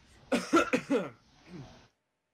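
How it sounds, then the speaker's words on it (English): A close burst of three or four quick, harsh coughs, followed by a softer, raspy cough trailing off into silence. "I'm gonna cough."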